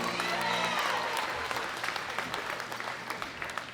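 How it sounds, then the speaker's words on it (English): Audience applause at a women's classic powerlifting world championship awards for the 72–84+ kg winners, a dense steady clapping in a large hall that holds loud throughout and thins slightly toward the end. "Big round of applause for our winners."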